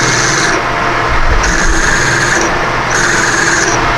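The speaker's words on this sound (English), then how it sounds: "I've got a 31/64 drill, and we're just going to drill it." A 31/64 drill bit bores a hole in a machinist's tool block for a boring bar. A loud, steady machine drone runs throughout, with a high whining tone that rises in repeated pulses.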